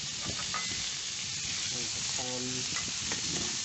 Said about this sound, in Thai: น้ำมันจากครั้งก่อนที่เราเหลือจะทอดไข่ครับ